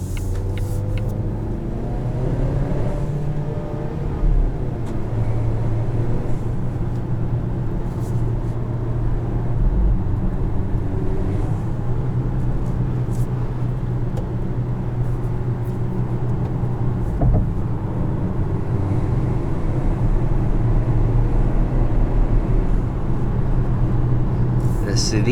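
A 2022 Volvo XC40 T5 Polestar Engineered drives along, its steady engine hum and road rumble heard from inside the cabin throughout, with someone talking over it.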